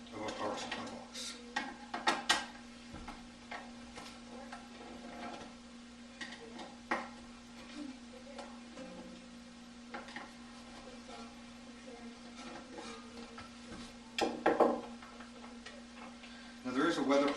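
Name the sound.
undoing four bolts on power supply box top cover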